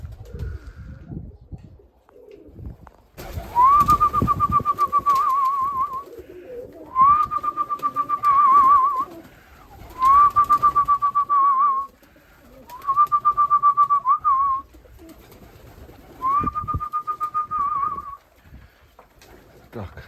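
Budapest pigeons coo around their loft in five separate rolling bursts, fairly close and clear, separated by short pauses with low rustling and handling noise in between.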